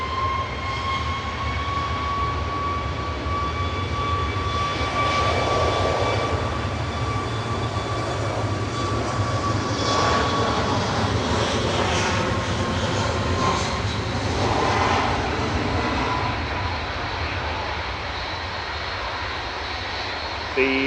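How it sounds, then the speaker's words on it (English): A Ryanair Boeing 737 MAX 8 jet departs Manchester Airport with a loud, sustained engine roar and whine that holds steady throughout, its tones slowly shifting as it passes. "Ryanair's departing first though, heading out to Malaga with flight 3208."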